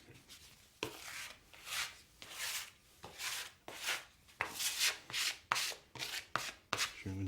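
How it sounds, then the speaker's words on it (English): Bread dough being divided with a scraper on a work surface, a series of quiet scraping and chopping strokes in an irregular rhythm, close up and alone. "that's ready to be divided nice and neatly with your scraper again"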